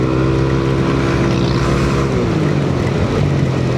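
A Yamaha Aerox V3 scooter fitted with a 4S1M Street Core exhaust drones loudly and steadily at high revs, its pitch dipping slightly near the end, close up with no talking.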